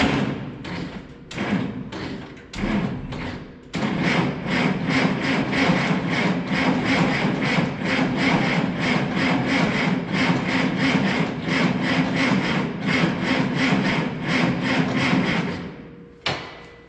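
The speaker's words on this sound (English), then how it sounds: "See how well she cranks over." Oliver 440 tractor engine cranking over on the starter, a loud steady rhythmic chugging that runs for about fifteen seconds after a few short bursts, then stops, with a brief thump at the end.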